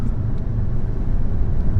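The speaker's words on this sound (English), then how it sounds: "The sound of this car and that 5-cylinder is amazing." Deep, rumbling idle of an Audi RS3 five-cylinder engine just after start-up, a steady low throb heard close and fairly loud with no voices.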